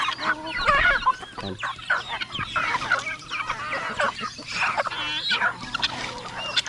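Chickens and roosters cluck and call repeatedly in an outdoor yard, a busy mix of overlapping squawks close by, while someone speaks a short word among them.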